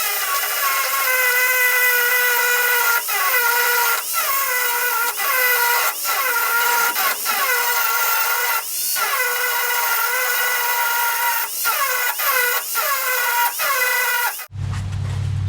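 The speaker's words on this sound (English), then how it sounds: "Now I'm gonna just grind it down a little bit and then we can pull it out." An angle grinder works down the cut-off head of a bolt on a 1976 Ford F150 during a rear lowering job, a loud continuous whine rising and dipping in repeated bursts as the disc bites, then stopping abruptly near the end.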